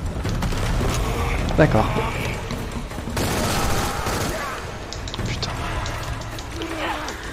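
Shotgun blasts from a pump-action shotgun in the Shadow of the Tomb Raider video game, close and loud, mixed with dense gunfire and other combat noise while someone talks over the action.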